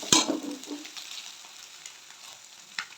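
Capsicum drops into a pan where an egg has just been fried, setting off a sharp burst of sizzling that quickly settles into a softer, steady crackle with a few light stirring clicks, close by and with no talk.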